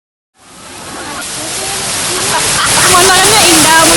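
The Curug Panjang waterfall, a steady broad rush of falling water that swells in after a moment of silence and stays loud and close, with a voice speaking faintly underneath.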